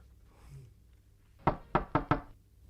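Four sharp knocks on a door, the first single and then three in quick succession, loud and close after a quiet stretch with no voices.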